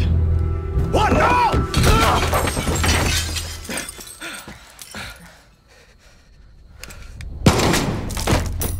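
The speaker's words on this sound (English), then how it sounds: "I'm taking the shot." A gunshot in Far Cry 6, a sharp bang standing out amid tense in-game dialogue and shouting, with other crashes and impacts around it.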